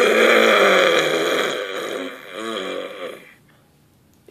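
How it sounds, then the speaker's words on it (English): A long, loud throaty burp rumbles close to the mic for about three seconds, wavering and fading, then quiet follows. "I'll probably do some burping for you all."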